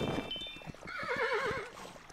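A horse in the game Kingdom Two Crowns gives a wavering, trilling whinny over soft, rhythmic hoof clops, close and moderately loud, with no talk over it.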